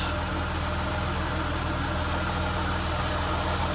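A Chrysler Town & Country minivan engine, fitted with a new ignition coil, idles smoothly with a steady, unbroken hum and no stumbles or misfires, heard close up and without talk.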